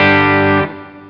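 An electric guitar chord rings out through a Tech 21 Richie Kotzen RK5 SansAmp overdrive pedal set for a Fender-style drive in front of an amp, bright and harmonically rich, then cut short and left to decay.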